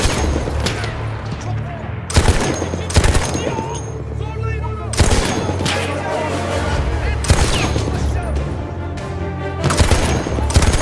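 Dense battlefield gunfire in a realistic war video game assault on an Ottoman fortress, with repeated loud close bursts and volleys over a constant rumble, and voices shouting in the background.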